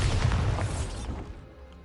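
A Bombarda spell blast in Hogwarts Legacy: one loud, deep boom that rumbles and fades away over about two seconds, with no voice.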